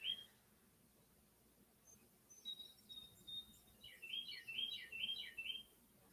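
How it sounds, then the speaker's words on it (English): Faint, high bird chirps come in scattered bursts near a greenhouse, quiet at first and then busier in a quick run of twittering calls over a soft outdoor background. "You hear the birds, guys?"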